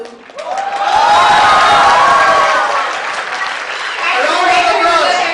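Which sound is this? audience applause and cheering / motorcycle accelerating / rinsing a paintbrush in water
audience applause and cheering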